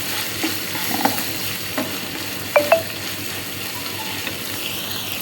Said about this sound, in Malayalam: നമ്മൾ അരി വെച്ച കളർ ക്യാപ്സിക്കവും മഷ്റൂമും ഇതിൻ്റെ കൂടെ ഇടാം. നല്ലോണം ഒന്ന് വശക്കുക.